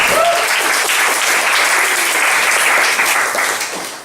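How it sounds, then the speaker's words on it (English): A freshers' week audience applauds in a dense, continuous wash of clapping that stays loud and even before tapering off slightly at the end. "Please give them a round of applause."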